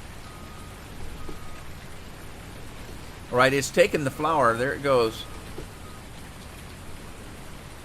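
Steady rain falling in the farming game Farming Simulator 19, a soft even hiss throughout, while someone talks briefly over it midway.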